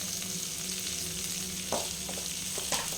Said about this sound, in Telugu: ఉల్లిపాయ, పచ్చిమిర్చి బాగా వేగేంత వరకు ఆగి